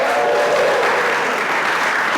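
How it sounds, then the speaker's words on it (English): A crowd at a student symposium claps steadily throughout, a dense, even wash of applause with no talking. "give our littles a round of applause as well"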